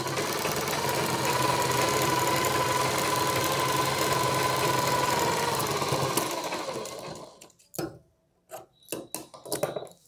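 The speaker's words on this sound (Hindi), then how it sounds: "इसके चारों ओर सिलाई डालेंगे ताकि ये कॉलर हमारा परफेक्टली तैयार हो जाए।" Sewing machine stitching around the collar of a half-collar choli-cut blouse, a steady continuous mechanical whir for about seven seconds, then stopping into short intermittent bursts and pauses.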